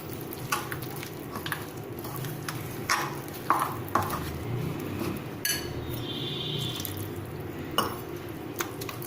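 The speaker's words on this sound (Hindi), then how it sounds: "थोड़ा थोड़ा पानी डाल के करेंगे जिससे लम्स ना बने।" Water added bit by bit and stirred into a thick bread-crumb batter for crunchy soya chaap, giving wet, sloshing stirring with scattered clinks of a spoon against the bowl, close and continuous.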